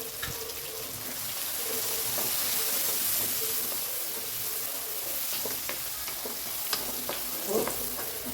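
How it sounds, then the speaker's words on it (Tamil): Green chillies and turmeric sauté in oil for a poori masala, giving a steady, close sizzle with occasional stirring scrapes and no talking. "இதுவும் இந்த ஆயிலே நல்லா வதங்கணும்"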